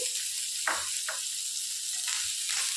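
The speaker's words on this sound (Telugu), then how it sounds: "ఇందులోనికి సన్నగా తరిగి పెట్టుకున్న ఉల్లిపాయలు వేసేసుకోవాలి" Finely chopped onions fry in oil with a soft, continuous sizzle, broken by a few light scraping stirs; no voices.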